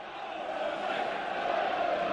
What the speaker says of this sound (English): The nervous Turf Moor crowd